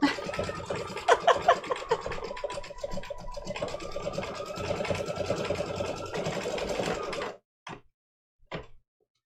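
An embroidery machine stitching a quilted shell design runs with a dense, rapid mechanical whir and needle chatter, then stops abruptly, leaving a few faint clicks and knocks in near silence.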